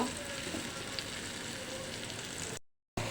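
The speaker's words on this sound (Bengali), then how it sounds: "সবগুলো মিষ্টি কুমড়া আর এক পিট ভেজে নিব" Pieces of sweet pumpkin fry in a pan with a steady, close sizzle and light crackle that runs evenly, then cuts out briefly near the end before resuming.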